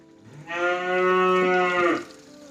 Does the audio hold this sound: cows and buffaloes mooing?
yes